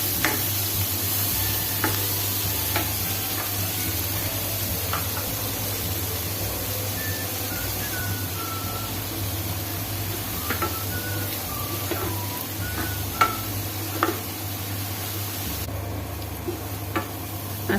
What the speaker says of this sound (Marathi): ही जी मेथी घेतलेली आहे ती चांगली परतून घ्यायची आहे